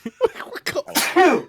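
A single sneeze bursts out loud and close, with a short breathy wind-up followed by a sharp, noisy release, alone without talk.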